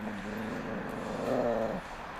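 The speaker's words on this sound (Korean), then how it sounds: "럭키의 귀에 주둥이를 대고 사납게 으르렁거리면서 위협한다" A dog growling threateningly at another dog, a low, close, continuous rumble lasting about two seconds and rising briefly before stopping.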